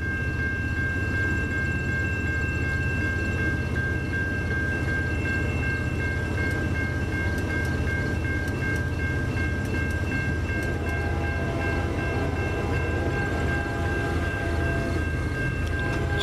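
A CN freight train led by a GE Evolution (Gevo) locomotive rolls past at Ladysmith, a steady loud rumble of cars and engine drone with a sustained horn tone running throughout, no talk.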